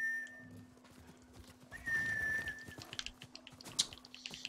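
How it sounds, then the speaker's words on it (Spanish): Horse in the video game Ghost of Tsushima: soft hoofbeats and snorting move under a steady low hum, with a short whinny-like cry rising near the middle and a bright clink near the end. "mi caballo no sabe acercarse a mí"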